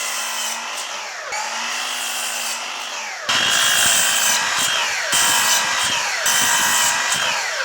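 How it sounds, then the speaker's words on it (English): A table saw rips scrap and barn wood into long strips for frames, its motor whining loud and steady while the blade bites through the board in repeated passes, with no talking. "here I'm just using the table saw to cut my wood into strips"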